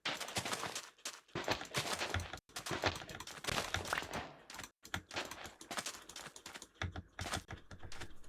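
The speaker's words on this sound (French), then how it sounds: "S'il y a des bruits de clavier, c'est parce que je suis sur un clavier qui fait un peu de bruit" Rapid clicking of a computer keyboard being typed on close up, in irregular bursts with brief pauses, fairly quiet.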